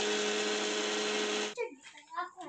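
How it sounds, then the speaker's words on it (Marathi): A mixer grinder whirs loudly and steadily, grinding roasted spices with cardamom, then cuts off abruptly and a person starts speaking. "आणि आता हे मिक्सरला फिरवून घेत"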